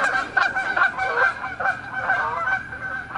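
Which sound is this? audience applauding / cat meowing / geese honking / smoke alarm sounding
geese honking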